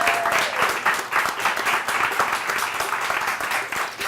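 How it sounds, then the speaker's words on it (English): A studio audience at a state representative candidates forum claps vigorously for the candidates, with a thick, continuous round of many hands and individual claps standing out close by. "Can we please give them a round of applause?"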